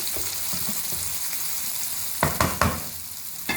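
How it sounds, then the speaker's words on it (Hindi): Stuffed okra (masala bhari bhindi) sizzles steadily as it fries in a pan, a constant close crackle. A few louder stirring or turning clatters come near the end. "अब हम इसमें दोनों तरफ से फ्राई हो चुके हैं, भिंडियाँ फ्राई हो चुकी है"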